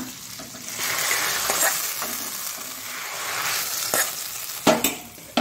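A steady, loud sizzle of tempering spices hitting hot oil for okra sambar fills the clip, broken by a few sharp clinks and stirring scrapes toward the end.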